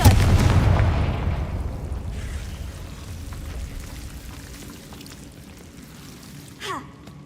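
A fire spell blast in Hogwarts Legacy, a booming explosion that hits loud at the start and decays into a long rumbling tail with faint crackle, followed by a small sharp clatter near the end.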